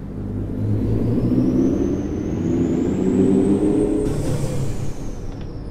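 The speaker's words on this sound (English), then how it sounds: "Grinding gears." A truck's gearbox grinds and whirs under a steady engine rumble, with a rising whine as it accelerates, close and fairly loud throughout.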